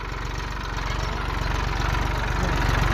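A tractor engine chugs while plowing a field, a steady low rhythmic thumping that grows slightly louder over a few seconds, with no talk.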